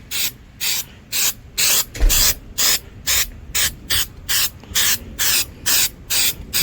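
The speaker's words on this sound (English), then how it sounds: "So let's start spraying this" Spray paint hisses from an aerosol can onto a tank in short, evenly timed bursts, about a dozen sharp loud hisses separated by brief pauses, with a faint clunk partway through and no talking.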